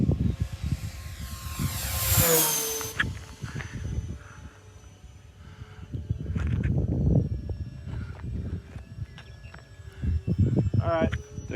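An RC model OV-10 Bronco airplane makes a full speed pass. A high whine sweeps past close by, then fades into steady engine buzz, with people talking throughout.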